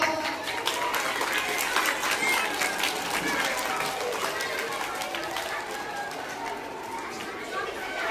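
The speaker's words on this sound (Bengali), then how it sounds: "হাততালি দাও।" A crowd of students clapping at an event honoring Vivekananda, a continuous, moderately loud patter of many hands with crowd murmur and voices mixed in throughout.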